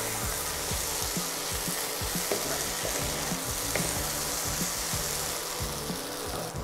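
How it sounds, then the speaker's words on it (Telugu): Okra fries in a pan for a sour tamarind stew, giving a steady close sizzle with repeated scraping strokes as it is stirred, no voices present. "ఇలా 10 నిమిషాలు వేయించుకున్న తర్వాత మూత తీసి కాసేపు మళ్ళీ కలుపుకొని"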